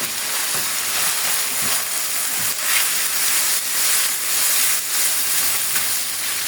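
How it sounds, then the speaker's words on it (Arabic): Minced meat sizzles loudly in a wok with a little oil, a dense, steady crackling hiss that runs for the whole stretch, broken now and then by soft scrapes of stirring. "وهبتدي أشوح اللحمة المفرومة بالشكل ده"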